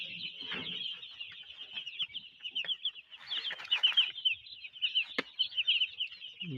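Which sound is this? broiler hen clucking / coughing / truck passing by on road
broiler hen clucking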